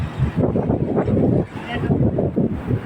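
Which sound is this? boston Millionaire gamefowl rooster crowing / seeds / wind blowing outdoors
wind blowing outdoors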